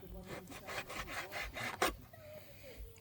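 A knife saws back and forth through charque, dried salted beef, cutting it into smaller pieces at a remote island campsite. The strokes come as a steady rhythm of rough, close rasping, then one sharper cut and a quieter moment.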